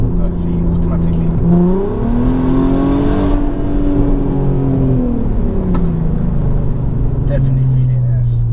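A 275 bhp Volkswagen Golf R32 Mk5 with its V6 engine accelerates in S mode, the loud, steady engine note climbing and shifting in pitch through gear changes, close up from inside the car.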